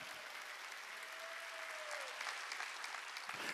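Congregation clapping during a Korean church worship service: dense, continuous applause from many hands fills the room, steady and moderately loud with a faint tone running briefly beneath.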